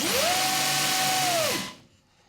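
A Futaba T4GRS-controlled GT Falcon RC car motor whines upward in pitch as the throttle is pushed, holds a steady high electric whine, then cuts off and fades to near silence.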